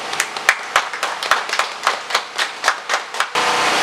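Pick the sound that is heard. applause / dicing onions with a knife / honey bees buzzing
applause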